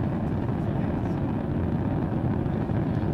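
SpaceX Falcon 9 rocket during the Crew Dragon DM1 launch, a steady loud broadband roar with a deep rumbling low end, continuous and unbroken throughout.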